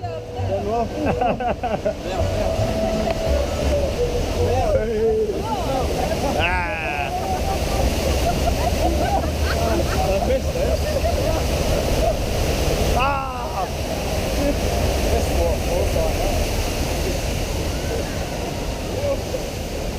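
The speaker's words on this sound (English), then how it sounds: "Nice to ride a rapids where the waterfalls are still on," Waterfalls pour onto a rapids raft ride at Europa Park, giving a loud, continuous rush of splashing water that lasts throughout, with riders talking and calling out over it.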